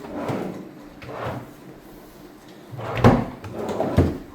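Wooden drawers of a bedroom nightstand slide open and shut several times in a row, giving soft rumbling glides with light knocks at the ends, close up in a quiet room.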